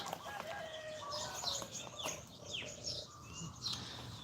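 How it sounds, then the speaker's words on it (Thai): Outdoor village morning ambience with scattered bird chirps and calls, soft background noise, and occasional clucking or crowing from chickens in the distance. "นี่ก็บรรยากาศยามเช้าไก่กาของชาวบ้านนะคะ"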